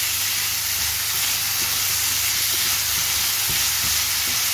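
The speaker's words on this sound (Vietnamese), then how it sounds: "các bạn xào cùng." Dry noodles stir-fried with seasoning in a pan give a steady, loud sizzle and hiss, with faint scrapes of stirring scattered through it and no talk.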